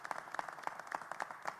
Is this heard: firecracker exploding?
no